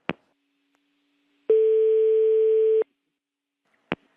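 Telephone line tone after a cut-off prank call, a single steady electronic beep of about a second and a half, set between two short sharp clicks of the handset, clear and alone with no voices.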